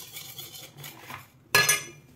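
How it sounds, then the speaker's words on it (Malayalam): Metal spoon stirring ragi flour with salt in a bowl, a soft scraping swirl followed by a sharper clatter of spoon against the dish near the end, close and moderately loud with no talking. "നന്നായിട്ടൊന്ന് മിക്സ് ചെയ്തെടുക്കുക."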